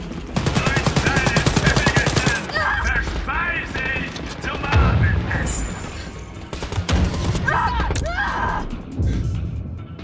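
Automatic gunfire from the Wolfenstein Youngblood shooter game, with rapid bursts of shots and loud crashes mixed under excited co-op players talking over the action throughout.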